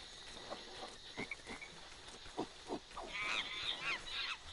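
A green frog in the Lego Worlds video game croaks in a series of short, repeated rasping calls against steady ambient background noise, growing busier and denser toward the end.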